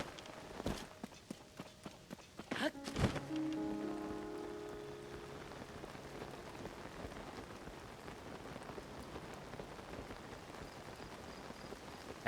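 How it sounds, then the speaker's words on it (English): Rain falls steadily in Zelda: Tears of the Kingdom, a dense, even patter that holds for the whole stretch, with a few light thumps and short tones near the start before the downpour settles in alone. "And suddenly rain."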